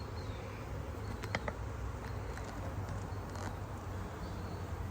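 Honey bees swarm around an opened hive during queen grafting, producing a dense, continuous buzz close by, with a few brief louder passes.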